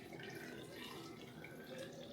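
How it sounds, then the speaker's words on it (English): Water pours over ice into a cup in a continuous, soft splashing trickle with faint clinks, heard up close and quiet with no talking. "let's go ahead and throw in some water."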